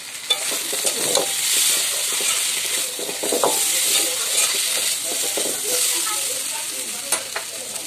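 Potatoes sauté in a pan over a wood fire with turmeric, cumin and chili powder: a steady, close sizzle with frequent scraping and stirring knocks throughout, and no talking.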